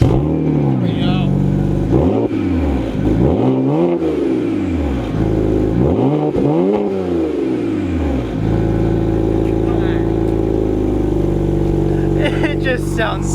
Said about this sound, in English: It just sounds so good. Muffler delete, resonator delete.